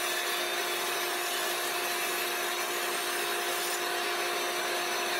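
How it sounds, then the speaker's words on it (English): A bandsaw slices the sides from the front and back of a wooden dice tower blank, producing a steady, continuous broadband whine with a constant hum throughout, fairly close and uninterrupted. "Then I'll move to the bandsaw to cut the sides from the front and back."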